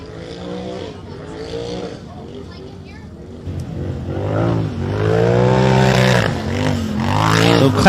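An off-road race car drives toward a concrete spillway, its engine revving up and down in repeated surges that grow louder and closer toward the end, with talk over it.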